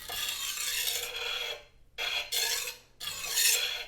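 A knife sharpener draws across a stainless steel blade in back-and-forth strokes, giving bright rasping scrapes, close and clear, in four bursts separated by short silent pauses.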